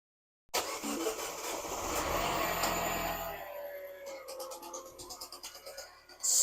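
A car's engine fires on its first start after several attempts, roars loudly, then settles into a rough, uneven running sound with clattering before a sudden loud burst.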